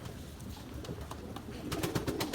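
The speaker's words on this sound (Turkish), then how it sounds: "Ya bu genç kuş bu." Pigeon sounds with soft cooing and a few brief calls from a young pigeon in a coop on a rainy day, over a low background hum, getting busier and a little louder toward the end.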